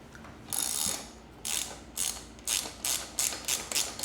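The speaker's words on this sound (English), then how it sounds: "We'll go ahead and take this front nut off first." Wrench ratcheting a front nut off the caster wheel of a Jazzy Carbon 27X power wheelchair, a run of short close clicking bursts that speed up toward the end, with no voices.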